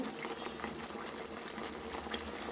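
Potato curry bubbling steadily in a pot over a village-style fire, with a continuous close, even simmer and small liquid pops.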